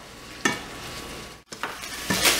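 Food cooks in a pan on a medium-high burner, a close hiss broken by a few sharp bursts of sputtering and a brief clatter, rising louder toward the end.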